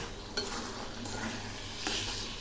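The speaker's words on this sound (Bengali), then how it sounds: "এখন আমি সেদ্ধ ছোলাগুলো ছেড়ে দিচ্ছি। আবারও একটু নেড়ে দিচ্ছি।" Boiled chickpeas being stirred into frying masala: a steady, close sizzle with a few sharp scrapes of a spoon against the pan, and no voices.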